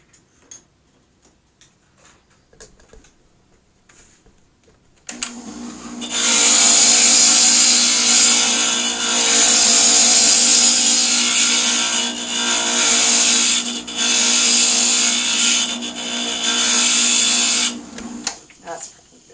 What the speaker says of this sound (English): I'm going to take that out and grind that some more